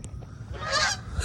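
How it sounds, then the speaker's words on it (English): Canada geese fly about ten feet overhead, giving a few loud, close, nasal honks in quick succession against a quiet outdoor background. "These Canada geese."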